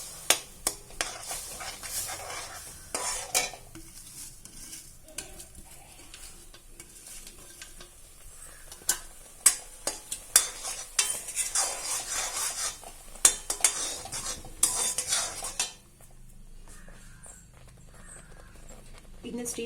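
Bread being stirred into boiling milk and caramel in a pan for bread halwa, with a steady close scraping and stirring, metal utensil clinks and a soft sizzle throughout.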